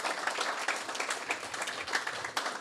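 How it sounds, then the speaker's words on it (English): A small group at a farewell gathering claps, dense uneven hand claps rising and falling in a steady burst at moderate volume, with no talk over it. "Clapping for you."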